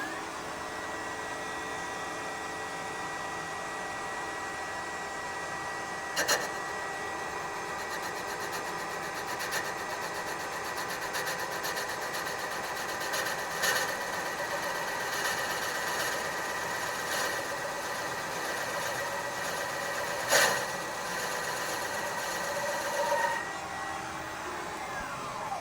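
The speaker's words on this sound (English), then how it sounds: "now I'm going to come down and make a very light cut" A valve seat cutting machine makes a very light cut on a 283 Chevy Power Pack cylinder head, a steady whirring drone with a few sharp clicks and knocks spread through it, running on before stopping near the end.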